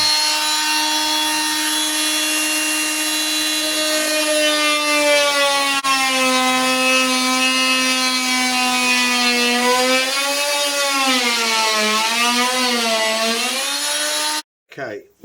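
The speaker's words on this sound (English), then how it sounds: "I'm using a oscillating saw. It gives a thinner cut and I can cut more accurately by eye." An oscillating saw cuts through a car floor section with a loud, continuous high-pitched whine that bends and wavers in pitch as the blade works, ending abruptly.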